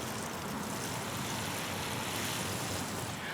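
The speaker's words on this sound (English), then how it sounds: "Right now I'm just going to throw some water on these other bean seeds." Water is poured over bean seeds in a backyard garden bed, a soft continuous hiss and splash running steadily and faintly throughout with no talking.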